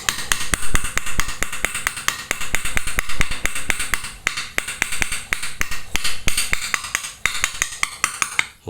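Tapping a water pump seal into place on a Suzuki Spark 135 motorcycle produces a rapid series of sharp, close metallic taps in an uneven rhythm, with brief pauses between bursts.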